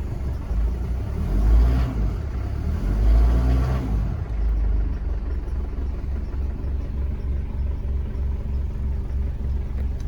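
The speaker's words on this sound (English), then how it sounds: "Start it up. Starts up fine, runs really smooth." A 1994 Mitsubishi Pajero Exceed's 2.8L diesel engine cranks and catches with a loud surge, then settles into a steady, even low rumble at idle, with no speech.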